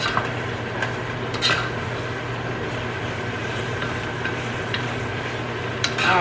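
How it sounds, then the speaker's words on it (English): Pasta sauce with garlic is stirred in a pan, a steady low sizzle with occasional scrapes and clinks of the utensil against the pan, close and continuous with no talking. "we got that stirred up really, really good"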